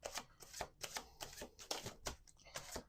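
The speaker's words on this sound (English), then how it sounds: "Let's do 2 more shuffles." Tarot cards being shuffled in a quick series of riffling bursts, close and fairly quiet, with short pauses between each pass.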